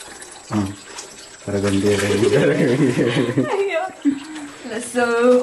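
Water running into a drum to soak oyster mushroom substrate on a Sikkim farm, a steady splashing pour heard under continuous talking and voices.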